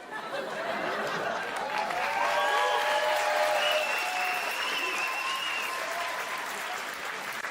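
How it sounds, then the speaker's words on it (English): Steady applause from a stand-up comedy audience, full and continuous, with scattered laughter and murmuring mixed into the clapping. "Why are you guys clapping?"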